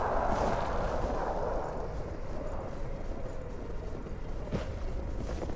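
Explosion in the game Code Vein: a dense, roaring blast that fills the whole clip at steady loudness, slowly thinning out with a faint crackle near the end, no talking.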